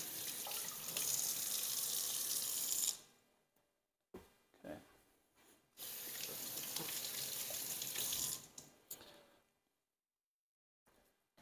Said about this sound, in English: So rinse that off good.